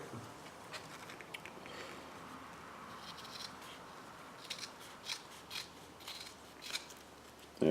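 Scissors snip and rasp through header wrap on a Fox Body car, a series of close, dry cutting strokes over light rubbing noise, growing a little louder toward the end.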